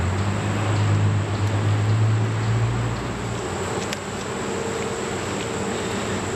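Honey bees buzz densely and steadily, close by, during a hive inspection after a Formic Pro treatment, with a low droning undertone throughout.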